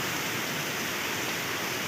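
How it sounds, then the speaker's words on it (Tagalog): Heavy typhoon rain pours steadily in Santa Rosa, Laguna in the early morning hours, a dense continuous hiss of rainfall with little wind and no talking. "Mahina yung hangin pero malakas yung ulan."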